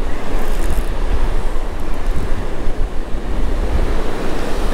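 Surf breaking continuously at a beach in strong, rough wind, with loud rumbling waves and gusty wind buffeting the microphone throughout, no voices.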